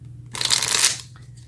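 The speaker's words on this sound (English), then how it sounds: "Let's see if I can shuffle these without destroying everything." Tarot deck being shuffled by hand: one quick, dense riffle of flapping card edges lasting about half a second, close to the microphone over a low background hum, with no speech.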